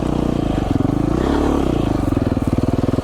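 A Beta 500 RR-S single-cylinder motorcycle engine chugs loudly and near on tight mountain single track, with a low, evenly pulsing idle-to-midrange beat and a brief rise in revs.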